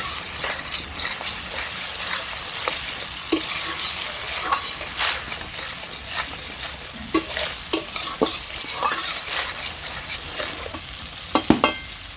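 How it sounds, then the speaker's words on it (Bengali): Spice paste for a Bengali pabda fish curry with poppy seed sizzles in oil in a pan while being stirred, with steady frying hiss and repeated scraping clicks of the spoon against the pan, close and fairly loud, no talking. "মশলাটাকে আমি বেশ কিছুক্ষণ দেখো নেড়ে চেড়ে নিচ্ছি।"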